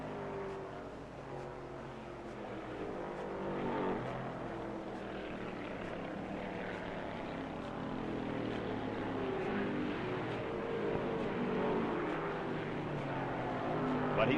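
Stock cars race in the 1966 Hickory 250, led by Curtis Turner's number 41 Ford, making a steady, distant engine roar that swells slightly over time, with a voice talking over it.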